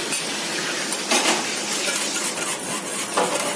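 Spoon stirring sour yogurt into milk in a pot, a steady scraping and clinking of utensil against metal with a few louder knocks, close and continuous with no talk.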